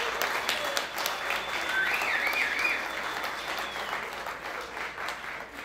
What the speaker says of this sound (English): let me lead you in a round of applause for yourselves.